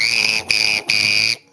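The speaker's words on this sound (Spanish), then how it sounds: "Puede ser el silbato, un policía, el de un árbitro." A police or referee whistle gives three sustained, shrill blasts in quick succession, the first two cut by brief breaths and the last ending abruptly; loud and close, with no talk.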